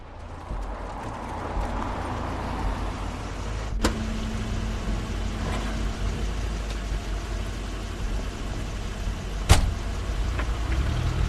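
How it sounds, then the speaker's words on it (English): A car arrives in The Wolf Among Us video game: a steady low engine rumble under a broad ambient wash, with a couple of sharp clicks along the way. "That's Crane's car."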